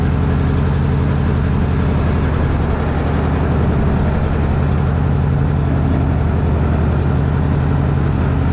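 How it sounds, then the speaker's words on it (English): A 1954 Ford 640 tractor's four-cylinder gas engine runs steadily nearby, a loud low rumbling chug that holds a constant pace throughout, with no voices. "this is a 1954 Ford 640 4-cylinder gas motor"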